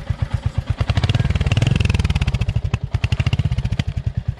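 A Royal Enfield Hunter 350 motorcycle engine revs up and down with a steady thumping pulse, loud and close, rising briefly then settling back to a rhythmic idle.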